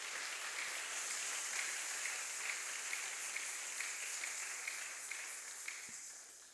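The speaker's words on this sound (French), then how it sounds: "Acclamons très fort pour la gloire de Dieu." A church congregation claps and applauds for the glory of God during a service, sustained dense applause from many hands filling the room evenly for several seconds, with no talking.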